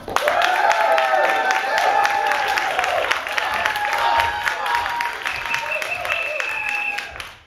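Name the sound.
improv show audience applauding for the red team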